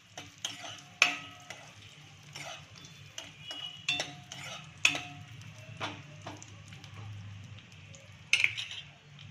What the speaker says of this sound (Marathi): काजू बदाम घालायचे मनुके मग खजूर परतून घ्यायचं आहे थोडं